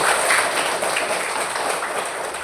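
A classroom of students clapping for a classmate, a steady broadband patter of many hands that continues evenly throughout without pauses.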